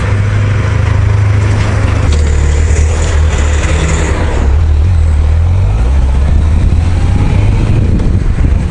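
A Honda CBF1000 motorcycle being ridden on an evening road, its low engine drone steady and loud under heavy wind buffeting, pitch shifting slightly as speed changes.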